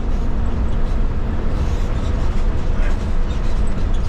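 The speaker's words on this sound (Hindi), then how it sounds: "यहाँ हमारी बस की मुलाकात फिर से हिमगिरी एक्सप्रेस से हुई" The Himgiri Express rumbles alongside a moving bus, a continuous heavy, loud roar of wheels and engine noise with no clear breaks.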